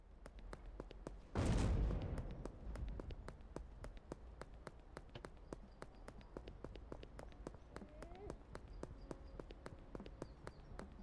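A single sharp explosion in a video game bursts out near the start, loud and close, then decays, against a steady run of rapid clip-clop hoofbeats that continues throughout.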